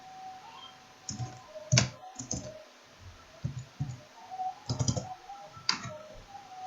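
Irregular clicks and taps of typing on a computer keyboard, arriving in short bursts with pauses between, moderately close and fairly quiet, no voices, during microcontroller circuit drawing work in Tinkercad.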